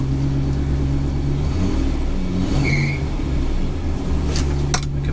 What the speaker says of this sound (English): That could be a belt slip.